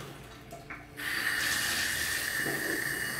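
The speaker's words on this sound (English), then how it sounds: "I'm just filling up my P-trap now because we don't want to let the sewer gases come into the house." A bathroom faucet runs to fill a P-trap during a renovation. After a few faint knocks, the water comes on in a sudden steady hiss that stays even and close.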